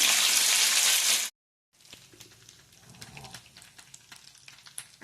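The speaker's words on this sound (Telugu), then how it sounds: "ఆ నూనెలోనే అల్లం వెల్లుల్లి పేస్ట్ వేస్తున్నాను నేను 1 స్పూను" Ginger garlic paste frying in oil with chicken pieces for chicken pickle: a loud, dense sizzle for over a second, then a brief silence and quieter crackling and spattering with scattered clicks.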